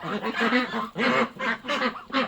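Ducks quacking close by in repeated loud, nasal bursts, several calls in quick succession.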